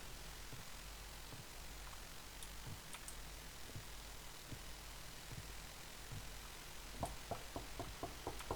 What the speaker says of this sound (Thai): โอ้ยเสียงเคาะ